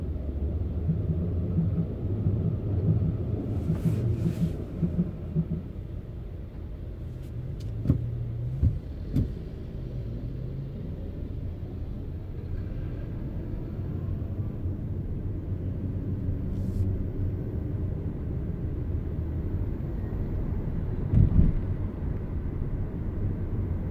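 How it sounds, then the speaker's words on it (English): A Mitsubishi Outlander PHEV plug-in hybrid on the move gives a steady, low road rumble and cabin drone, with a faint electric motor whine from the rear carried underneath for the whole stretch and a few light knocks along the way. "There's a little noise coming from the rear, from the electric motor"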